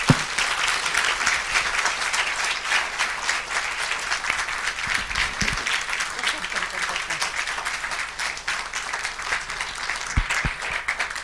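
An audience at an 80th-birthday public lecture for Professor Kwame Karikari gives sustained, dense applause, a steady wash of many hands clapping at an even level for the whole stretch.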